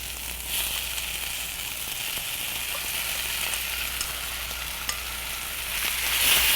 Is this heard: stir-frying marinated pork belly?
yes